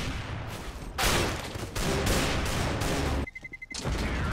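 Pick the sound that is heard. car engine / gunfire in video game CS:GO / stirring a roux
gunfire in video game CS:GO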